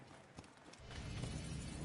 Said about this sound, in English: I have horses for us nearby.